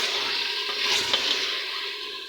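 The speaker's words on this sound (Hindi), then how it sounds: "देखिए इतना अच्छा भुनाई हो रही है" Potatoes and minced keema fry in oil in a pot, a soft continuous sizzle with faint stirring scrapes, close and steady.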